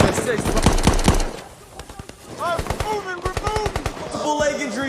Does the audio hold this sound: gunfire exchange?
yes